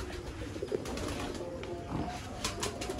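Bateray pigeons coo in low, soft murmurs, the calls close but faint against a steady background hum.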